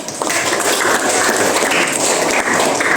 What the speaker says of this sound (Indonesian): Pertama sekali tepuk tangannya nih